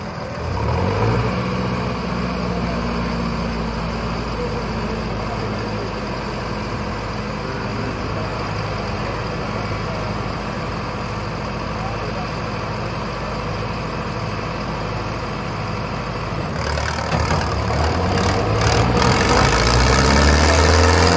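New and old Arjun 555 tractor engines roar steadily in a tochan tug-of-war pull, a loud continuous diesel drone that rises sharply in the last few seconds as the pull intensifies.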